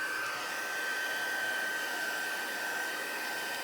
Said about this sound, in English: I'm gonna just grab my heat tool